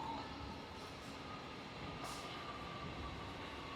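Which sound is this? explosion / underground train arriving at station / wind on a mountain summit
underground train arriving at station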